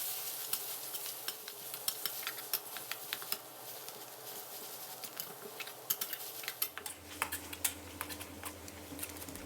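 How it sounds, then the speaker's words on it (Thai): Pounded chili paste for nam prik ong stir-fries over medium heat, a soft sizzle under frequent metallic scrapes and taps of a spatula against the pan, quiet and close. "ให้เราใช้ไฟกลางในการผัดนะครับ ให้เราผัดให้สุกเลยครับ"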